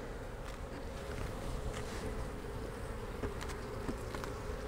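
A dense, steady buzz of many honey bees humming together inside a hive at close range, continuous and fairly soft.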